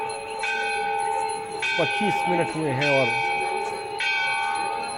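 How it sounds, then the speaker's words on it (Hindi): Temple bells ring during the evening aarti at Kedarnath, their clear sustained metallic tones repeating steadily while a news presenter talks over them. "घंटियां बज रही हैं।"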